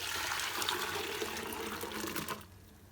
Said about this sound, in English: Now I'm going to pour this into the pan.